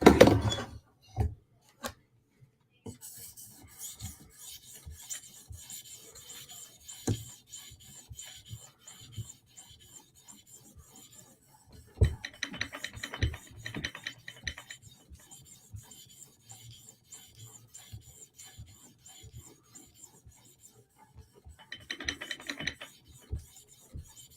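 Blade of a Chris Reeve Sebenza tanto knife drawn across an 800 grit sharpening stone, a soft raspy scraping in short strokes with scattered light taps and pauses, close and fairly quiet.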